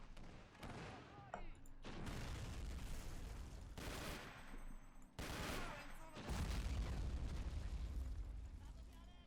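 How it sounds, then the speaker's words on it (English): Grenade blast in the WWII strategy game Men of War: Assault Squad 2, a loud boom landing amid dense, continuous battle noise of gunfire and further explosions, with bursts of talk over the din. "Let's drop a grenade."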